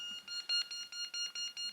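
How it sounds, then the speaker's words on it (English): A beeping softball-shaped ball used in beep baseball gives a regular series of about eight short, high electronic beeps, evenly spaced and close, with no voices. "It's a softball-shaped thing that beeps."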